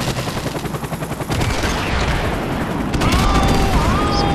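Airstrike explosions in Modern Warfare Remastered multiplayer, a rapid series of booming blasts and gunfire-like cracks rolling together in a dense, loud barrage with game effects layered over it.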